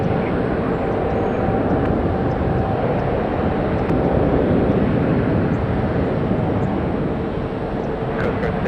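A Korean Air Boeing Dreamliner takes off from SFO runway 28 with a continuous, powerful jet roar. The sound stays loud and steady throughout, with a faint tonal whine and no one speaking.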